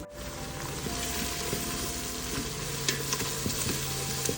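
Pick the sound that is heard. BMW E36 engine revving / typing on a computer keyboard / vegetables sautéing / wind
vegetables sautéing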